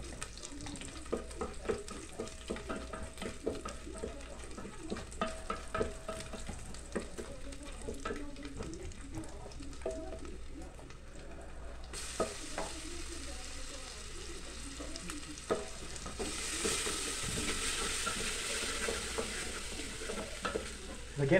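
Beef pot roast simmers and sizzles in a pot while being stirred. A steady, close frying hiss runs under repeated scraping stirs and grows louder and brighter toward the end.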